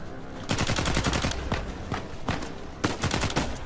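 Gunfire in the video game Uncharted 4, several loud bursts of automatic fire in quick runs separated by short gaps, close and heard without talk.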